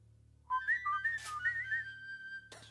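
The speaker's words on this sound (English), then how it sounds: "A whistle." A film scene in which a whistle is blown, giving a wavering, trilling high tone that sweeps up and down for about two seconds after a quiet start, ending with a short noisy burst.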